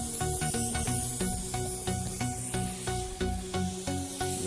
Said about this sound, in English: I may have to move that compressor plumb out of the garage. Trying to do videos, it sure is awful noisy